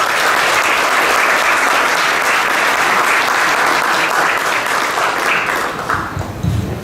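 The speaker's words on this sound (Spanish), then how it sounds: "yo creo que se merece un enorme aplauso" An audience applauds an honored labor inspector at a gathering, producing a dense, loud, sustained wash of clapping that holds steady and fades slightly near the end.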